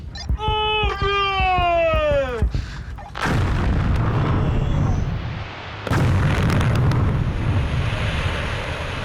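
Quarry rock blast of some 25,000 tonnes: a siren sounds first, then a deep booming explosion followed by a long rumbling roar of falling rock and a second heavy surge of rumble, heard from a distance outdoors.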